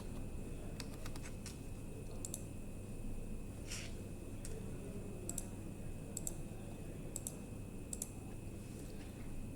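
Scattered key clicks as a user ID and password are typed on a computer keyboard, sparse taps over a steady low hum.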